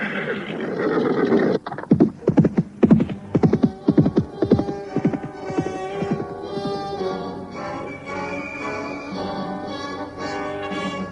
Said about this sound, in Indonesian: Setelah menaikkan perbekalan ke atas punggung kuda, mereka pun segera naik ke atas kuda.